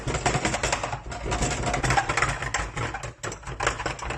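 A steel dough cutter and a spoon bash rapidly against kottu roti on a hard surface, making dense, fast metallic clatters in a continuous rhythm, close and loud.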